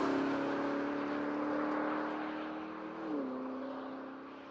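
Porsche Cayenne Turbo GT engine while being driven hard, a loud sustained engine drone that dips briefly in pitch before settling and slowly fading, no talking.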